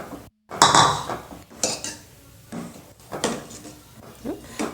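Ragi porridge being stirred in a pot: intermittent metal scrapes and clinks of a spoon against the vessel in short irregular bursts, close and moderately loud.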